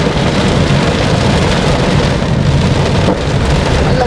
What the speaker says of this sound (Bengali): নর্মালি এই সিজনে এইরকম বৃষ্টি হয় না